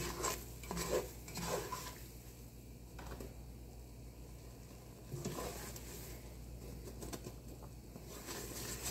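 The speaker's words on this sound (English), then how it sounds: "What I'm doing is cooking that flour taste out." A utensil stirs flour cooking in plenty of butter in a pot for creamy potato soup, giving a soft continuous scraping and faint sizzle with a few light clinks, steady and close.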